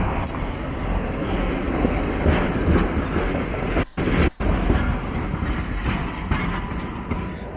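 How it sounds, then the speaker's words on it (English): A New Orleans streetcar rolls past on Canal Street, a loud, steady, close rumble of wheels on rails with a clickety rattle, briefly cut by two short dropouts, with no talking. "We're trying not to get run over by the streetcar"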